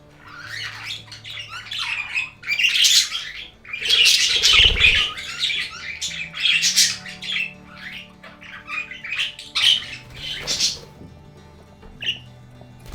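Budgies squawking and chirping in an aviary as a grey budgie joins the flock, a loud, busy chorus of overlapping calls with occasional wing flaps, near and continuous.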